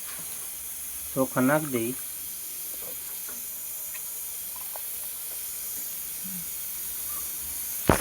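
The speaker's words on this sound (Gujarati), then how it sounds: "હવે આપણું આંધણ થઈ ગયું છે, આ રીતનું ઉકળી ગયું છે" Water at a steady boil in a cooking pot, ready for rice in a Gujarati dal-bhat recipe, gives a continuous soft hiss and bubbling throughout, with a short spoken phrase near the start.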